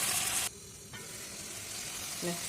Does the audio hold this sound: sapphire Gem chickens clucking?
no